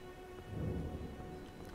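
Rain and distant thunder at Stormgate in the video game Elden Ring, a faint steady wash of rainfall with a soft low rumble swelling briefly, no talking.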